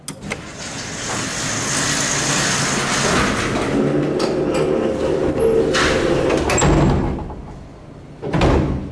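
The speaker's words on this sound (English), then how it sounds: "All right, let's close the door." The heavy door of a Dover/Adams hydraulic freight elevator at a university engineering building rolls shut with a long, loud grinding rumble, then a brief lull and a final solid thud as it closes, with no voices.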